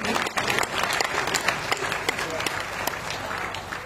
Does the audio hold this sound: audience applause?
yes